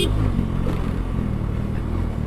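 A Yamaha FZ motorcycle runs fast on a highway, its engine a loud, steady drone under constant wind roar, heard up close from the rider's position with no break.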